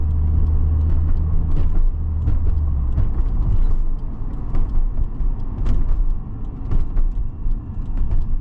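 A Nissan Z sports car drives past on a road, its engine making a loud, steady low rumble that swells and eases as it goes by, with traffic noise around it.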